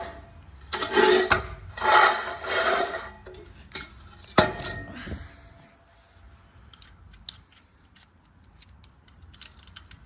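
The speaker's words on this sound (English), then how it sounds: "Grab the grinder, give it a little scratch." A grinder scratches a copper piece in two or three harsh bursts of rasping, with a sharp knock and a scrape, then quieter clatter and faint clicks.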